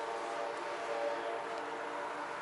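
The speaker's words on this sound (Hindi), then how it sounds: "ये जो ट्रेन जा रही है उसी का हॉर्न है।" A train horn sounds in a sustained, tonal blast over the rumble of a passing train in Amsterdam, New York, moderately loud and somewhat distant.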